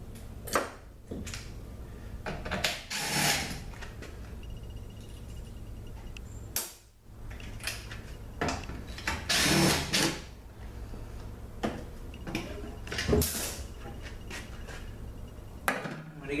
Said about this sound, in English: I'm going to get the two bolts out here that hold that B2 clutch drum in.